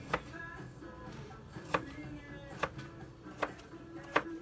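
A knife cuts through a carrot on a cutting board, making five crisp, evenly spaced chops near and clear over a quiet background, with no one talking.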